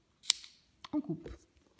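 Scissors snip crochet yarn at the finish of a crocheted letter Q, a single sharp close click followed by small handling rustles, with no talk.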